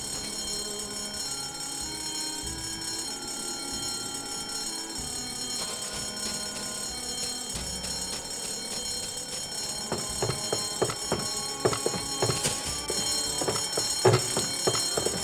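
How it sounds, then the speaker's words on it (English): A fire alarm rings in the video game Escape From Monkey Island, starting faintly under game music and turning into loud, repeated metallic bell strikes during the final seconds. "Or we could just pull the fire alarm."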